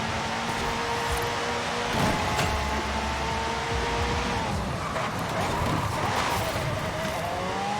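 Race cars roar through a Forza Horizon 5 race, engines droning steadily with shifting pitch and occasional tire squeal, a continuous dense mix of several cars close by.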